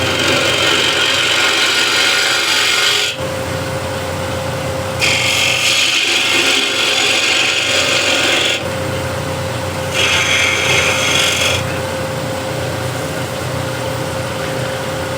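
A bigger spindle gouge scrapes wood turning on a lathe, giving a loud, close, continuous rasp over the lathe's steady hum, with bursts of brighter cutting that start and stop as the tool meets the spinning piece.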